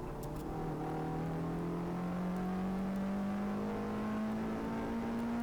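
A Peugeot 106 engine on a track at Goodwood Motor Circuit holds high revs down the front straight, a loud steady drone whose pitch climbs slowly and smoothly as the car accelerates, heard from on board with constant wind and road roar.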